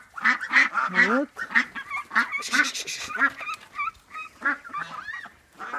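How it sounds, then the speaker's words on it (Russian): Domestic ducks at a small farmyard quacking in loud, close, rapid bursts, several birds calling over one another, with a brief spoken word. "остались вот мои уточки"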